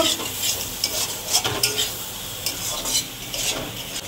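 Elephant foot yam stalks and tiger prawns cook in a little oil, giving a continuous close sizzle broken by scraping stirs and occasional soft clinks of a utensil against the pan, with no voices.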